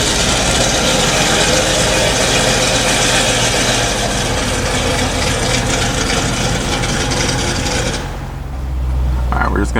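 A loud car engine idles at a dyno shop, a heavy, steady rumble that drops briefly near the end, with a voice talking over it.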